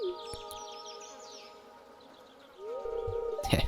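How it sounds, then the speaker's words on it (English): Bird chirps and whistles play faintly in the background of the Stardew Valley video game, forming a distant layer of thin, high calls over a soft ambient bed. "I even hear the distant singing of the birds."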